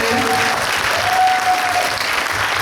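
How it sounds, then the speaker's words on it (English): A large audience claps steadily and loudly for presenters at a business training event in Malaysia, a dense, unbroken wash of hands with no voices on top. "would you everybody give them a big applause"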